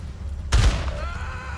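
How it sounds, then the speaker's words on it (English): A single loud gunshot crack in the GTA video game with the LSPDFR police mod, ringing out over steady background game ambience and fading into a short tail. "Gunshot! Shots fired! We have a shot fired."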